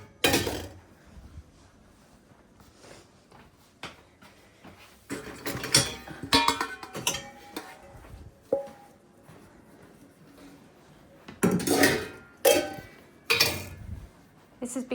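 Dishes clatter as a dishwasher is unloaded in the morning, with scattered clinks and sharper bursts of plates and cutlery knocking together, close, irregular and intermittent among quieter handling sounds.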